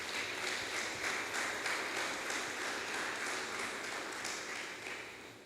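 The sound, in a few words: congregation applauding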